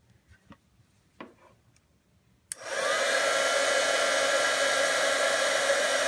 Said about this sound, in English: And now we're going to heat this up with our heat tool.